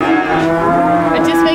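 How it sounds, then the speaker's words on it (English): A cow moos loudly and close by at a livestock sale where horses are also kept, a single long, sustained low call with a steady tone. "Lots of cows."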